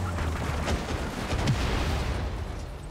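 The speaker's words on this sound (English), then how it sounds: "contracted the grapple into a fiery explosion of death" A grappled car blows up in Just Cause 3 gameplay, with heavy booming blasts and cracking bursts over a rumbling low bed, sharp hits near the start and middle amid continuous chaotic noise.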